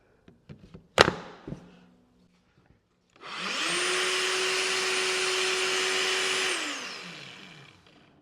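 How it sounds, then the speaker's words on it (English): Lamello Classic X cordless biscuit joiner: a few handling clicks and a sharp knock, then the motor ramps up smoothly to a steady high whine, runs about three seconds and winds down. "Got a nice soft start motor to it, no big jerk when you turn it on."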